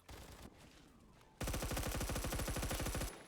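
M4A1 rifle fire in Roblox Phantom Forces: a brief burst early on, then a loud sustained automatic stream of evenly spaced shots for about two seconds.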